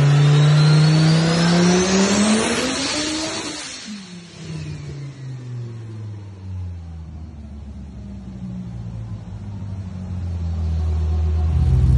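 A 2600 hp twin-turbo Dodge Viper with a 9-litre stroker engine and sequential gearbox revs loud and close, with sweeping rising and falling pitch and a deep rumble between the pulls, and no talking.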